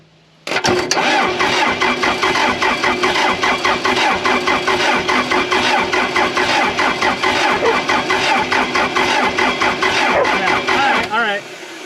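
A Case 450B dozer, left abandoned for 15 years, cranks over in a loud, fast, rhythmic chug that starts abruptly, holds for about eleven seconds and then cuts off, with voices nearby.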